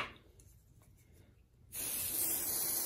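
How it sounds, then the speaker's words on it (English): A quiet pause, then a sudden continuous hiss of temporary spray adhesive from an aerosol can onto batting starts and holds steady, close and loud, until the end. "I just spray it on the batting"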